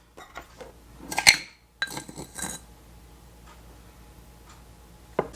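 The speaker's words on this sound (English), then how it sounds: "we're just going to mix this together until everything's combined" Soy sauce, dark soy sauce, cornstarch and sugar whisked together in a bowl for beef and broccoli, giving a few quick clinks and ticks of utensil against the dish, with a louder burst of scraping then quiet.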